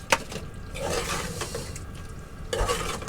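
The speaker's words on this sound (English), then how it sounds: "give it a stir." A spoon stirs food in a pan in a tiny kitchen, a close scraping, sloshing swirl that runs steadily for about three seconds, picking up again near the end.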